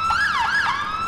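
A police car in the video game GTA IV wails with a loud, close siren sweeping up and down in quick repeated cycles, with no voices over it.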